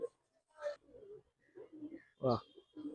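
Pigeons coo softly in short, low phrases, mixed with people talking close by.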